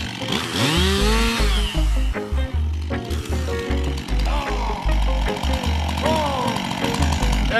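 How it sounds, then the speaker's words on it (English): A chainsaw cutting wood for a Māori hāngī earth oven revs loudly with rising and falling engine pitch, while heavy low thumping pulses run underneath throughout. "So the chainsaw's broken."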